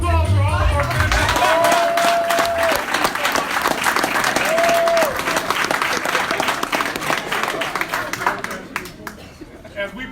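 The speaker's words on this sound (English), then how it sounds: "Big round of applause for all of our" An audience bursts into sustained applause with some cheering, dense clapping that swells and then gradually thins out toward the end, with a couple of whistles early on.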